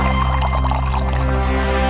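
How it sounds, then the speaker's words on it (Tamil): Water is poured from a three-measure vessel into a five-measure vessel, a steady continuous pour over a tonal background hum. "இந்த 3 கன அளவு உள்ள பாத்திரத்துல திரும்ப தண்ணிய நிரப்பி இந்த 5 கன அளவு உள்ள பாத்திரத்துல ஊத்துனோம்னா"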